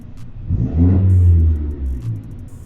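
A tuned Audi S3 engine with added fuel and low-end boost revs up hard with a deep, throaty roar, holding high for a moment before dropping back, with a crackle near the end.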